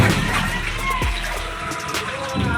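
Floodwater sloshing and streaming around knee-deep in a flooded house, a steady continuous wash of rushing water close by, with someone speaking over it.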